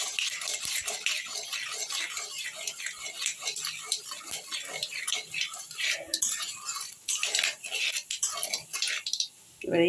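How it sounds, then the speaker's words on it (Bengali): Mustard seeds frying and crackling in hot oil in a pan for raw mango chutney, with steady metallic scraping of a spoon stirring against the pan throughout, close and moderately loud. "এবার এইভাবে নাড়তে নাড়তে যখনই দেখবেন সর্ষেটা এরকম ভাজা ভাজা হয়েছে"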